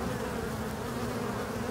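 Honey bees swarm and buzz at a beehive during handling, a dense continuous drone held close and steady throughout with no voices.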